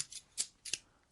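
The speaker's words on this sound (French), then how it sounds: "Posez ces ciseaux, monsieur." Scissors snip through strings in three or four quick, crisp metallic cuts, close up and isolated.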